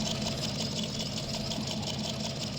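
Truck engine in the off-road video game MudRunner idling with a steady, dense rumble and knock, loud and close, running without a break and with no audible shutdown.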